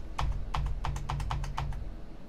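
Computer keyboard keys pressed in a quick series of about ten sharp clicks in uneven rhythm, close and clear over a low steady hum.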